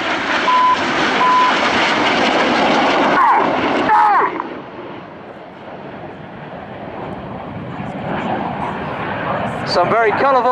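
Red Arrows display jets roar past at the Scampton airshow, a loud broad jet rumble that fades midway and swells again, with a commentator talking over it and a few short electronic tones.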